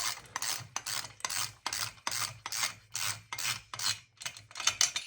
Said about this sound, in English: Okay, I've got the other pipes on. I'm just tightening up these ones here.